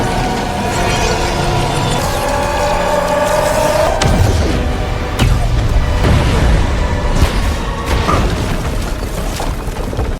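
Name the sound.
explosion in a film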